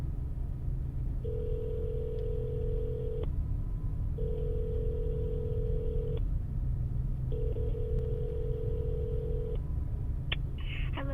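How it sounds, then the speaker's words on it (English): A telephone call rings out over steady low background rumble, with three long ringback tones about two seconds each, evenly spaced, followed by a brief click and beeps as the line connects. "I'll just call Mike."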